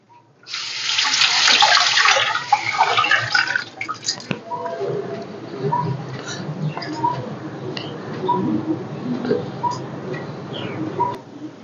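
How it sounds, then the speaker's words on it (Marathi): Salted tamarind is rinsed under a running tap, a loud rush of water into a sink at first, then quieter splashing, dripping and handling sounds; someone talks faintly underneath. "ही चिंच ना मी थोडी धुवून घेते कारण ह्याला मीठ लावलेलं आहे मी धुवून घेते चिंच ही"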